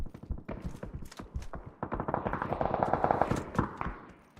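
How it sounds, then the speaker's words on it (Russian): Rapid automatic gunfire from the PUBG battle royale game, dense bursts of sharp repeated shots building into a sustained loud volley before trailing off. "Сейчас слышал выстрелы еще, получается."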